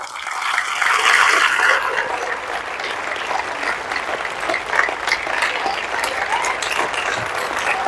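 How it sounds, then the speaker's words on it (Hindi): Sustained audience applause for a guru at a motivational business speech, a dense crackling wash of many hands that swells loudly at first, then settles into steady clapping for several seconds. "एक बार गुरुदेव के लिए कैसी तालियां बजा सकते हैं आप?"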